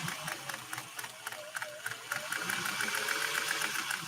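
A 1958 Singer 404 sewing machine stitches through four layers of satin, a fast, steady mechanical clatter that runs close and even throughout, slightly quickening toward the end.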